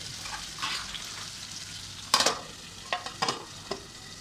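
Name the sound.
stirring fish frying in a pan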